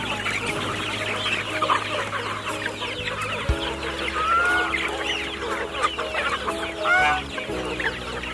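Several chickens cluck and chatter steadily while being fed, with occasional louder squawks rising over the busy flock noise, close by and continuous.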